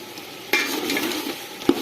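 Carrots sautéed with partly cooked potatoes in a pot for vegetable pulao, giving a soft continuous sizzle with a few spoon knocks and scrapes, the last one sharper, and no voices.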